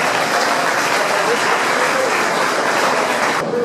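Loud sustained audience applause at a Global Peace Foundation event for Nepal earthquake relief, a dense even roar of clapping that cuts off abruptly near the end.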